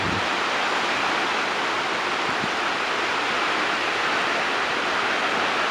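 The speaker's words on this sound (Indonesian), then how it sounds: "Akhirnya kita bisa juga menikmati suara deburan ombak teman-teman" Steady, loud broadband roar of ocean surf along a north Java coastal village beach, continuous and unbroken throughout with no talking.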